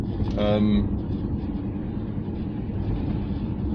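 A Lexus LS400 with a cold-idle fault runs at a high idle of about 1500 rpm as the car creeps along at around 30 mph untouched. A steady low cabin rumble holds throughout, with a brief voice near the start.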